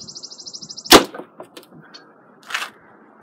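A 70-pound Bear BR 33 compound bow at 29-inch draw looses an arrow: a faint steady ticking beforehand, then one sharp, loud crack of release, a brief rattle, and a second smack of impact about a second and a half later.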